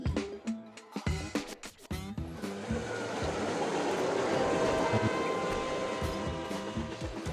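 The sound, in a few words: trains looping around on tracks in a video game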